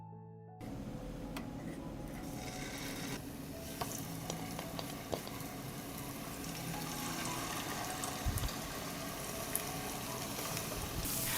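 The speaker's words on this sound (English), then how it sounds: "I put the dough on the heated oil." Dough sizzles in hot oil in a pan, a steady close crackle and hiss that begins abruptly after a short quiet start and keeps going, with occasional louder pops and spatters.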